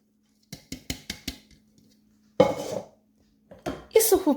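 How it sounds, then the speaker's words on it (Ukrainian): Nuts for a festive diet fruitcake rattle into a bowl, first as a quick series of five sharp taps, then as two longer, louder rushing pours, close and clear. "Висипаю горішки."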